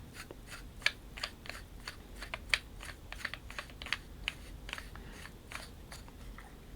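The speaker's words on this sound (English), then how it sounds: "unscrew the emitter." Emitter section being unscrewed from a custom Ultimate Works Darth Maul lightsaber, heard as quiet, irregular metallic clicks and scrapes at close range, with no talking.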